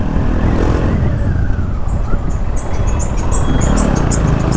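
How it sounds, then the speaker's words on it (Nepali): A motorcycle rides along a road, captured from a helmet-mounted camera, with a loud, steady roar of engine and rushing wind filling the whole stretch. "कस्तो मजा भयो यार बाइक चलाउन"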